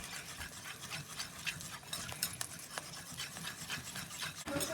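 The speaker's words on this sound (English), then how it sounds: "That does whisk smoothly, doesn't it?" Matcha glaze being whisked smoothly for dipping donuts, a steady scraping, rubbing rasp of whisk against bowl, close and fairly quiet, running continuously with small rhythmic strokes and no talking.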